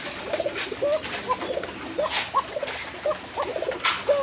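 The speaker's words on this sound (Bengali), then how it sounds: "এটি হচ্ছে একজোড়া হোয়াইট গুল্লা কবুতর, আমাদের একদম পিওর দেশি গুল্লা কবুতর।" A pair of white Gulla pigeons coo softly and repeatedly at close range, low rolling calls recurring every half second or so over a faint background.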